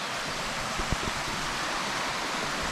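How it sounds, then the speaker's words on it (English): Small waterfalls along a dim forest hiking trail at Worlds End State Park, heard as a steady, close broadband rush of falling water with no talk. "we run into our first little set of waterfalls here"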